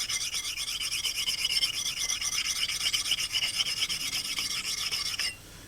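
An axe head rubs back and forth across a sharpening stone in a steady, rasping scrape with a fast regular rhythm, close and fairly loud, stopping abruptly near the end with no talk.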